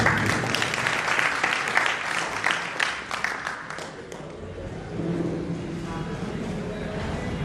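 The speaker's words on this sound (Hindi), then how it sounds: "इस पर ताली बजाइए, बहुत अच्छे।" Audience applause breaks out at a saints' gathering marking a mahant's death anniversary, dense clapping that thins and fades into a lingering murmur of the hall's crowd.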